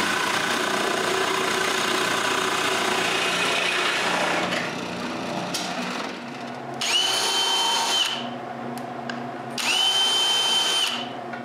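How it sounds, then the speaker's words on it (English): A power drill bores hinge holes in solid pine pantry parts. It runs loud and continuous at first, then comes back in two short whining bursts separated by quieter gaps. "I move the stop to the other side and drill the remaining holes"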